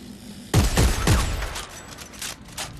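A weapon fired in Dead Space 3, a loud rapid burst of heavy shots starting abruptly, ringing and fading into mechanical clatter and softer trailing noise.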